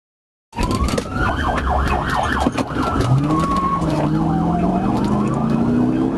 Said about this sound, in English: Despite emergency lights and sirens being activated